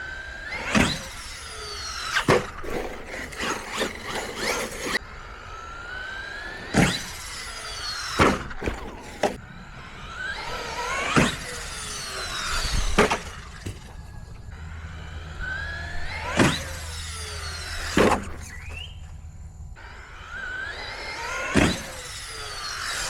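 Traxxas Rustler VX3 RC car driving and launching off a ramp, its high-pitched electric motor whining and sweeping up and down between repeated sharp thuds and clatters of landings, close and loud, with no talking.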